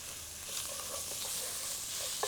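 Onions fry in a pan over medium-high heat for chicken zafrani biryani, a steady close sizzle and hiss with a few brief soft stirring scrapes near the end.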